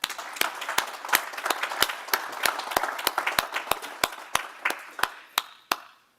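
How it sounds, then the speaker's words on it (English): A small audience at a council of trustees meeting gives a round of applause, with individual claps standing out clearly and the clapping thinning into a few final claps before fading out. "Would you join me in a round of applause for them?"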